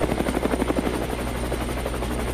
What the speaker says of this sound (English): I have just been picked up by my helicopter